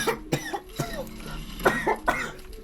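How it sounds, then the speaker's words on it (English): A person coughs several times in short, close bursts, loud and alone, with a throaty, harsh texture between the hacks. "Sorry about the cough."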